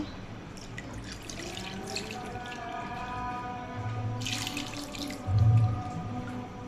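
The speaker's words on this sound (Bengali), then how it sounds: "এখন পানি দিয়ে দিচ্ছি" Water runs steadily from a tap into a cooking pot holding fish with turmeric, a continuous hiss that thickens and swells briefly near the end, with no voices.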